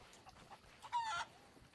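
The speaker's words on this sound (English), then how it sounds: "Chicken, stop flapping around." A chicken in Sea of Thieves clucks and squawks in a few short, faint bursts with brief wing-flapping rustles, quiet against a low game background.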